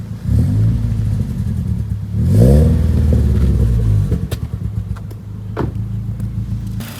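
A tuned Nissan Sentra SpecV engine idles with a low steady rumble, then revs in a couple of quick rising blips before settling back to a loud, even idle, heard up close.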